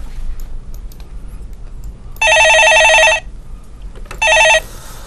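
A telephone rings with an incoming call on a Korean stock-market call-in show: two loud, close electronic bell trills, one long and one shorter, over a quiet background hum.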